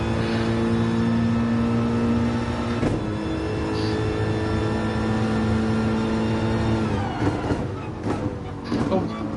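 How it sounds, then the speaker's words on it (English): Mercedes GT3 race car engine holding a steady, heavy drone with layered harmonics, then a gear change and rising revs near the end, loud and close throughout. "I mentioned at the start of driving this Merc that it kind of sounds heavy"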